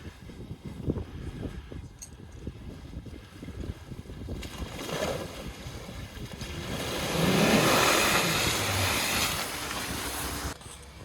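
A Jeep Patriot or Compass pulls away from a standstill, its engine rumble building and then swelling into a louder, rushing surge mixed with wind noise before easing off near the end.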